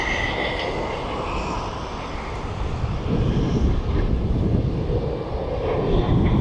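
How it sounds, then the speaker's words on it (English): A DHL Boeing 767 taxiing at East Midlands Airport, a steady low jet engine rumble that holds constant and swells slightly louder toward the end, with no talk over it. "the DHL 767 is taxied down"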